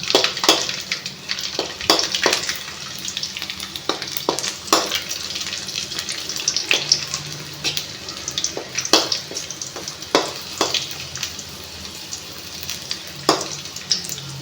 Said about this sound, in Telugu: వెల్లిపాయలు వేసుకొని ఇవన్నీ వేపుకుందాము